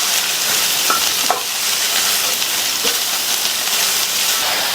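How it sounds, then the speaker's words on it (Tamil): Snake gourd pieces sautéing in oil in a pan, a dense, even crackling sizzle with a few faint clinks of a spoon stirring. "இது கூட கட் பண்ணி வச்ச புடலங்காயை சேர்த்துட்டு எண்ணெயிலேயே நல்லா 2 நிமிஷத்துக்கு இந்த புடலங்காயை வதக்கி விட்டுக்கங்க"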